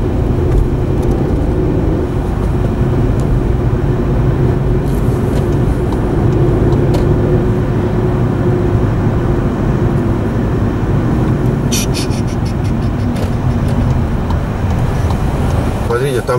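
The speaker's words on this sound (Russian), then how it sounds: "Смотрите, там 3 машины выехало" Cars on a road in Tallinn at the end of the workday make a steady, loud rumble of engines and tyres that continues throughout, close by, with some brief rattling clicks partway through.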